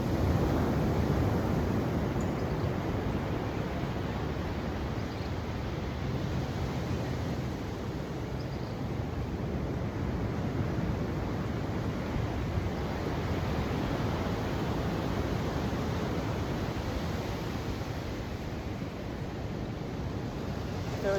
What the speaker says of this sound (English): you can just listen to the waves.